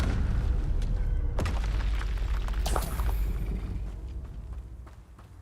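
Confringo and Incendio spells blasting in Hogwarts Legacy: a dense rumbling roar punctuated by sharp cracking impacts near the start and middle, fading out toward the end, with no voices.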